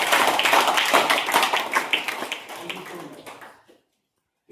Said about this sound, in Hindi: मैं इन सारे लीडर्स को एक साथ आप सब के द्वारा तालियों से सम्मान देना चाहूंगा